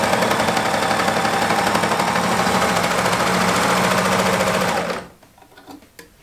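Sewing machine stitching a child's pullover runs loud and close in a steady rapid chatter for about five seconds, then stops abruptly, leaving faint clicks and handling noises.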